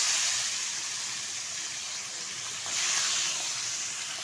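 Salted catla fish pieces frying in hot oil in a wok, a steady bright hissing sizzle that swells slightly toward the end, close and alone.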